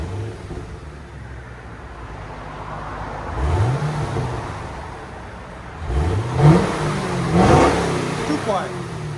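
The stock-exhaust 6.2-liter V8 of a 2010 Chevy Camaro SS Bumblebee idles with a low rumble, then revs in a few quick throttle blips that rise and fall, with faint talk in the background.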